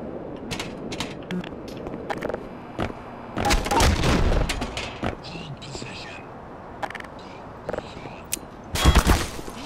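Frag grenade blasts and gunfire in the video game Black Mesa: scattered sharp shots, then a loud burst of explosion around the middle and another heavy bang near the end, with a player talking quietly between them.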